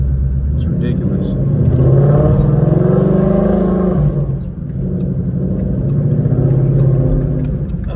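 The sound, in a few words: 2016 Ford Mustang GT exhaust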